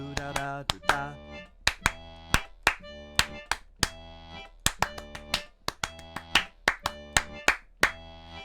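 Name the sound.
hand clapping a rhythm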